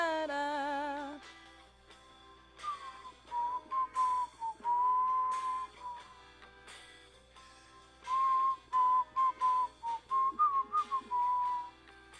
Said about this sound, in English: Maybe some of you can whistle a little better than I can